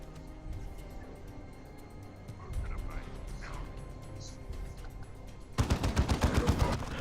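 Rapid bursts of video-game gunfire in Dawn of War, a tight string of loud, evenly spaced shots erupting near the end after a stretch of quieter battle ambience.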